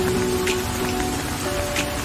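Steady rain pours through a tropical mountain jungle on Gede Pangrango, a dense, even patter of drops on foliage and ground that fills the whole stretch with no voices.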